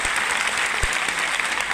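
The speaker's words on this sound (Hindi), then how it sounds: "मैं चाहूंगा इसके लिए एक बार जोरदार तालियां आप लोग बजा देते हैं" A large audience gives loud, dense applause for a girl who climbed Kilimanjaro: close, steady clapping from many hands that stays constant for the whole stretch.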